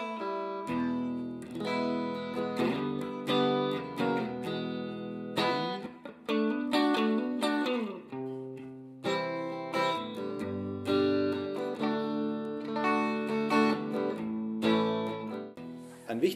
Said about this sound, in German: Ich kann aber genauso gut einen Clean-Sound spielen